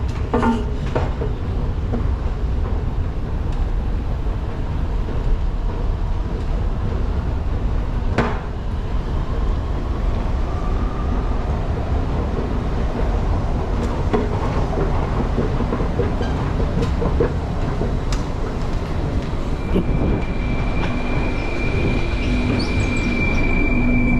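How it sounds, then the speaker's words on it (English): A metro train pulls into a station in Türkiye, a steady loud rumble of wheels and motors filling the space with clanks and a rising tone near the end, no voices. "my metro seems to be coming in 1 minute."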